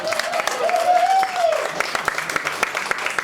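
A concert audience claps for a performer over a sustained vocal note and cheering. The applause is sparse and moderately loud and thins to scattered claps.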